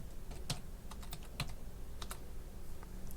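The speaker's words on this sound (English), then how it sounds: "in search, we're going to type in MNTENT" Typing on a computer keyboard, scattered key clicks with a few sharper taps spread across a short stretch, close and fairly quiet with no talking.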